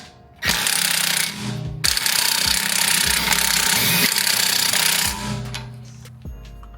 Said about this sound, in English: Go ahead with that torque stick. 100 foot-pounds.